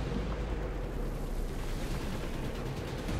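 A bomb blast in a video game gives a loud, sustained roar of rumbling noise with no distinct separate hits, steady and dense throughout.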